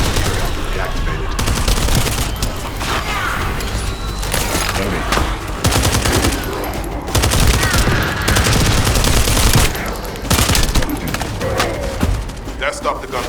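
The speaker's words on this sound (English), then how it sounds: "That stopped the gunfire." Continuous gunfire in The First Descendant with rapid bursts and volleys, dense and loud throughout, layered with other battle noise.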